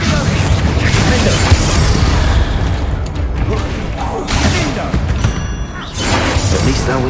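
Explosive blasts from the Confringo spell in Hogwarts Legacy boom and crash in repeated heavy bursts over a rumbling game backdrop.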